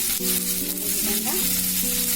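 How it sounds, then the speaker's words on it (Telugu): Garlic, tomato, tamarind and green chillies frying in a pan, a loud steady sizzle with a stirring scrape partway through, no voices. "అన్నీ కొద్దిసేపు ఫ్రై అవ్వాలి."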